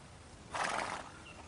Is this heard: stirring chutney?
no